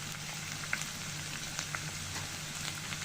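Raw paste of onion, garlic, ginger and cumin frying in a pan for egg korma, giving a soft, continuous sizzle with faint pops, close and unaccompanied by speech.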